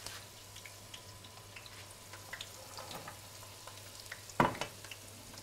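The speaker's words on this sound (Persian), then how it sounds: "خب فقط حالا میمونه این قوره که خالیش کنم توی خورشت." Sour unripe grapes tipped into a sizzling Persian stew, a soft steady frying hiss with faint crackles and a brief louder splash and clatter near the end, no talking.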